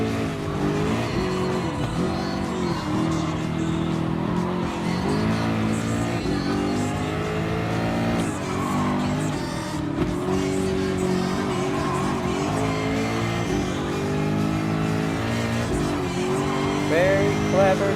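Race cars lapping a track in Gran Turismo Sport, among them a Ford GT LM Spec II and a GTR GT3: engines whine and rise and fall through gear changes, with a voice talking over them.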